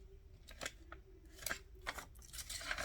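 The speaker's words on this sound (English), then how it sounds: "Go ahead and cut some pages down." Scissors snipping through paper pages for a homemade journal notepad, several quiet crisp cuts spaced irregularly, close and soft, with no talking.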